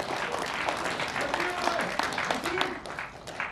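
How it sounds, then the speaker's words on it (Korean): A crowd at an outdoor political rally in Korea applauds and cheers, with dense clapping and raised voices blending into a sustained, fairly loud wash. "다시 한 번 더 손을 맞잡고 환호해 주시기 바랍니다"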